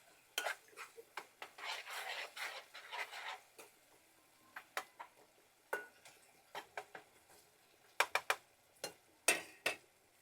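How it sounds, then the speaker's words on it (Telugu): Spoon scraping and clinking against a pan while fish curry with chili powder and salt is mixed, giving sharp, irregular metallic taps and brief scrapes, close and fairly quiet, with no talking. "అట్లా కొద్దిసేపు అట్లా మిక్స్ చేస్తూ ఉండాలండి"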